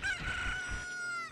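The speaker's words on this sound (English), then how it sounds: "chicken hatched from the egg" A chicken crows in Zelda: Ocarina of Time, a single drawn-out cock-a-doodle-doo that is fairly clear and fades out near the end.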